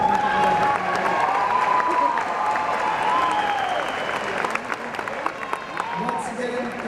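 Sustained applause and crowd noise for honors graduates at a university graduation ceremony, steady dense clapping filling a large hall, with voices and cheering mixed in throughout.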